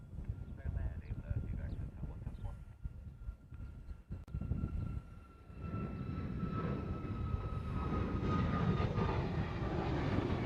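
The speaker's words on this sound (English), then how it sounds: "Southwest heading off to Kailua Kona." A Southwest airliner departs Honolulu airport toward Kailua Kona, its jet engine roar building into a broad, steady rumble that grows louder toward the end, heard from a distance with someone talking over the opening seconds.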